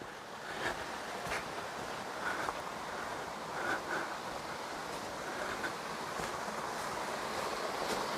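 A small river flows beside a little bridge in the Devon countryside at Bickleigh, a steady broadband rushing wash heard close and continuous, with no talk.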